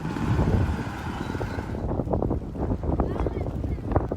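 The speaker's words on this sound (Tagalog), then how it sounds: "Malakas na rin ang alon at hangin" Strong wind and waves along the coast of Tagbilaran City, Bohol, during a typhoon, a loud rough roar of gusts buffeting the microphone with surging surf beneath, steady and close.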